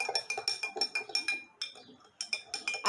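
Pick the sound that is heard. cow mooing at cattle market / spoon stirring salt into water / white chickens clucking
spoon stirring salt into water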